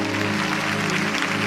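A church congregation claps together in steady, sustained applause with a faint hum underneath.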